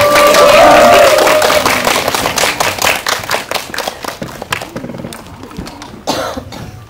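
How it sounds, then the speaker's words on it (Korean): Audience applause at a film screening Q&A breaks out loud and dense, then thins over several seconds into scattered individual claps, with one last small burst near the end. "박수 부탁드립니다."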